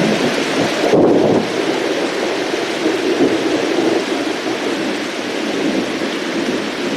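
Steady heavy rain and a low rumble of thunder heard from a vehicle driving north on Interstate 95 among trucks, a continuous loud wash of noise throughout with a thunder swell near the start.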